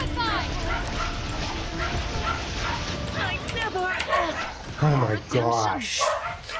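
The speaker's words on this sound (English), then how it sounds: "Dogs are cheering." Cartoonish dogs bark and yip in a burst during a Genshin Impact boss fight against Signora, layered over game music and effects while a player talks excitedly.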